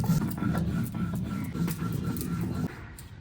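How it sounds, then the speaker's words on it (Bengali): Roasted whole coriander seeds, cumin and black peppercorns being ground into powder: a steady, loud mechanical whirring that runs for under three seconds before cutting off. "এখন গুঁড়ো করে নেব।"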